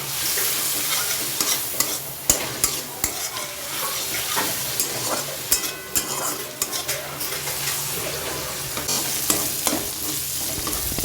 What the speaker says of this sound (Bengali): এবার চিংড়ি মাছগুলোকে ভেজে নিচ্ছি।